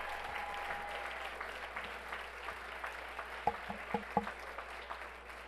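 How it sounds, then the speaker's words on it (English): An audience at a school governing board meeting applauds Zaharis Elementary School with a steady wash of clapping throughout, a few sharper individual claps standing out toward the end. "Let's have one more round of applause for Zaharis Elementary School."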